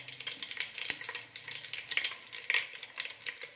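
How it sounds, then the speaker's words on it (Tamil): Mustard seeds and cinnamon spluttering in hot oil for a village-style Tamil mutton kulambu, a close, steady crackling sizzle with sharp pops scattered throughout. "எண்ணெய் நல்லா சூடாயிருச்சு இதல கடுகு ஆட் பண்றோம் கடுகு பொரிஞ்சிருச்சு"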